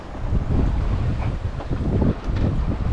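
Strong gusty wind buffets the microphone while a small Welsford SCAMP sailing dinghy runs through open water, a loud rough roar with surging swells of noise and no voices.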